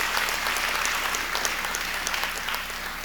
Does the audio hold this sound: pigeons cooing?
no